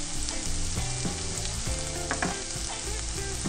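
Sliced mushrooms and buckwheat fry in a pan, a steady broadband sizzle close up throughout, with occasional clinks and scrapes of stirring over the top.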